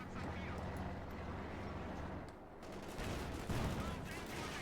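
Bazooka and Panzerschreck rockets fire in a Company of Heroes 2 battle, a dense wash of blasts and gunfire layered with battlefield noise, with a brief dip before the firing swells again, with talk over it.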